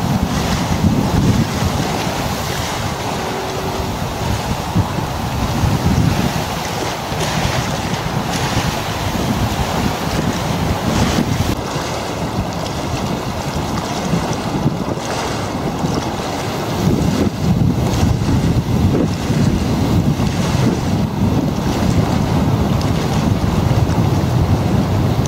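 Strong gusting storm wind buffets the microphone over choppy waves on Bray Lake during Storm Callum, a continuous loud roar of rushing air and lapping water with no voices.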